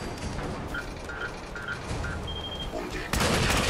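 Gunfire in Fallout 4 as a dense run of rapid shots with a few faint electronic beeps, then a louder blast at the end.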